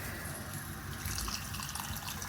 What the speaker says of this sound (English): 100, 200, 300 mils of water.